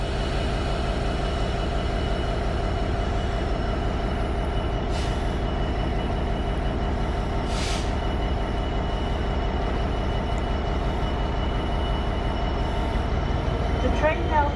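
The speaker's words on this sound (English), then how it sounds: "The train now approaching platform 1." Train rumbling steadily past a station platform, a continuous close heavy rolling drone with faint squeals and a brief hiss near the end.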